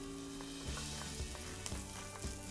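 Garlic and onion sautéing in a hot pan, with a steady sizzle and a few soft stirring knocks over two and a half seconds, fairly quiet.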